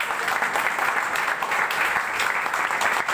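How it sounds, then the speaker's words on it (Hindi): Loud, dense applause from a seated crowd at a product presentation seminar, steady and sustained throughout without a break. "मैं चाहूँगा जोरदार तालियाँ हो"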